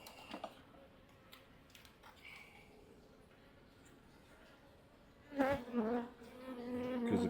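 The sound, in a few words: honey bees buzzing in hive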